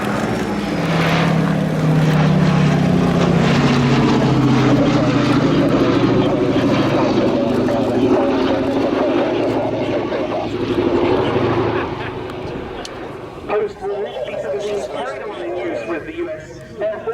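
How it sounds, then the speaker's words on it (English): A B-17 bomber flies past at an air tattoo, its propeller engines droning loud and steady with a low throb that gradually fades, while a commentator talks over the noise throughout. "here we have seen the B-17 Sally B flying in salute to the US Army"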